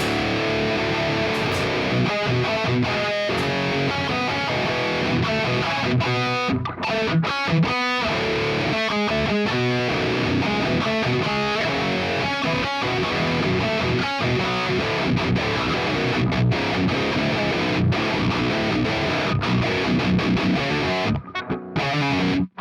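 Heavy metalcore electric guitar, amp driven by a Tube Screamer with delay, reverb and volume pedal off, chugs loud and dense without pause, palm-muted riffs broken by brief stops.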